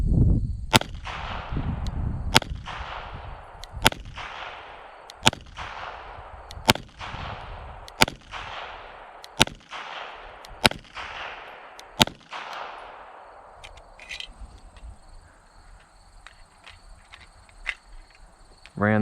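Shots from an EAA Girsan 1911 pistol firing a magazine of light handloaded reloads, about ten sharp, loud reports spaced roughly every 1.4 seconds, each ringing out briefly before the next, then quieter outdoor ambience.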